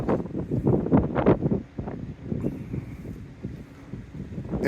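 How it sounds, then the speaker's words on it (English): Wind buffets the microphone outdoors on the deck of a Rhine river cruise ship at Kinderdijk, Netherlands, in a chilly 5–8 knot breeze, giving low rumbling gusts that rise and fall with no talking. "It's a little windy out here."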